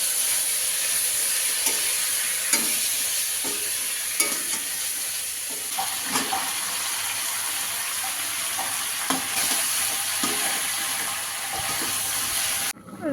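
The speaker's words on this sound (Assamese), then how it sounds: "আৰু মই পূৰা মাংস বনোৱাত লাগিছোঁ।" Local chicken meat cooks in a kerahi wok, giving a steady close sizzle with repeated scraping stirs of the spoon across the pan and a sharp clatter near the end.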